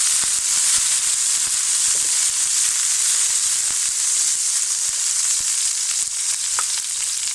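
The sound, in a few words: garlic leaves sizzling as they are added to hot oil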